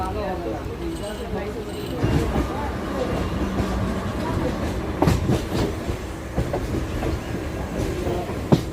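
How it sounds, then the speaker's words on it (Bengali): A Bangaon local passenger train rumbles along the rails near Kolkata with rhythmic clacks and rattling carriage noise, heard from inside, with voices murmuring in the background. "আমি দমদম থেকে দশটা একুশের বনগা লোকালটা ধরে নিলাম"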